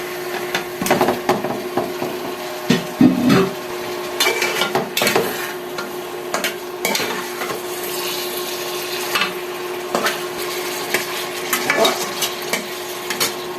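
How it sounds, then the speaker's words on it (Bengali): Hilsa fish coated in turmeric and salt going into a pan of cooked-down spices, with loud repeated scraping and clattering of a spatula stirring amid a continuous sizzle, no voices. "মশলা কষানো হয়ে গেছে এবার মাছগুলো দিয়ে দেব এই যে হলুদ লবণ দিয়ে মাখিয়ে রাখা ইলিশ মাছ দিয়ে দিচ্ছি"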